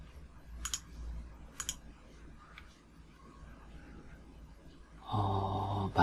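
Two sharp mouse clicks, a double-click on a MariaDB installer file at a computer, sound close and crisp, followed after a pause by a louder steady tone as a window opens.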